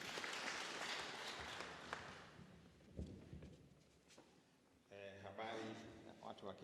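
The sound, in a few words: audience applause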